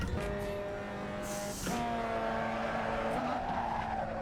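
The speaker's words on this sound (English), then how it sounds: "Classic Galaxy MX5 engine sound." Mazda MX5 in a racing video game, a loud engine tone that drops and climbs between gears, with continuous tire skid and squeal over it.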